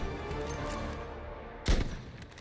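One sharp, loud gunshot crack in a first-person shooter match, a sniper player on a foreign server, standing out from a steady bed of game background noise.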